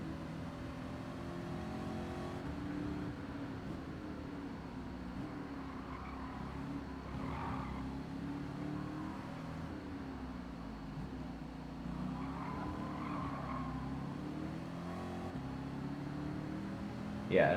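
Race car engines droning steadily in the Gran Turismo 7 racing game, a continuous mid-level hum with gentle swells of revving throughout, and a brief louder burst right at the end.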